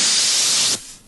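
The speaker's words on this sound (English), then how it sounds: "These stains must be removed by hand, with the use of special cleaning agents, some elbow grease, and ironically enough, water in the form of steam." A loud hissing blast from a dry-cleaning steam sprayer used to remove stains from garments, holding steady for most of a second before cutting off abruptly into quiet.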